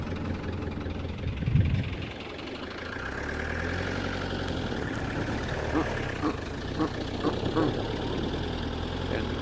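A Renault 4 engine runs steadily from the roof of the moving car in Somalia, a constant low drone with faint knocks and rattles and some background noise.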